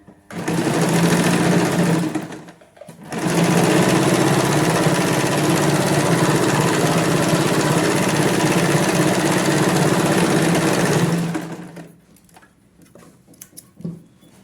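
A sewing machine runs steadily and loudly while top stitching a hidden pocket on palazzo trousers, with a short pause near the start and a few brief bursts at the end.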